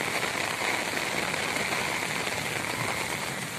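Heavy rain pours down with fast-flowing water in Swabi, a dense, steady hiss of drops and runoff that stays loud and unbroken throughout, with no voices.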